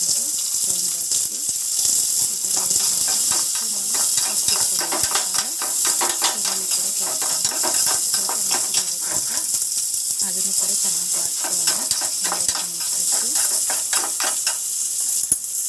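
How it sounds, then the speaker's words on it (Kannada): Onion frying slowly over a low flame for tomato chutney, a steady close hiss with rhythmic stirring scrapes running throughout. "ನಿಧಾನಕ್ಕೆ ಲೋ ಫ್ಲೇಮಲ್ಲಿ ಹುರ್ಕೊಳ್ಳೋಣ"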